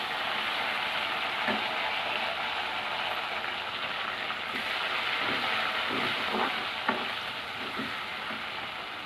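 Tomato fries in a pan of oil for a dal curry, a steady close sizzle with occasional soft stirring knocks and pops scattered through.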